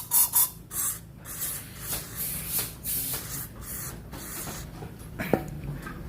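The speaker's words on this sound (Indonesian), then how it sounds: "untuk membersihkan TB ini harus pakai carbo cleaner ya, seperti ini ya. Semprot" Carb cleaner sprayed from an aerosol can onto the throttle body of a Honda Verza motorcycle, in several short hissing bursts spread across the clip, fairly close, with no talking over them.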